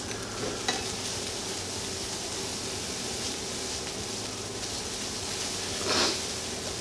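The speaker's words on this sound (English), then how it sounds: "And you throw it right in the pan. You start stirring it, keep stirring it" Food fries in a hot pan under a steady broad sizzle, with occasional scrapes of stirring and one louder bump near the end, close and fairly loud, no voices.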